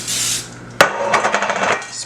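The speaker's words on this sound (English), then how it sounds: "I'm gonna spray my pans with this." Baker's Joy cooking spray hissing into cake pans, a short sharp burst of aerosol spray with a brief rattle, close and fairly loud.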